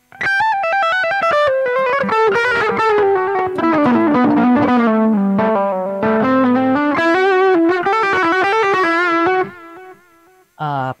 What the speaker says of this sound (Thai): ผมปรับเสียงแตก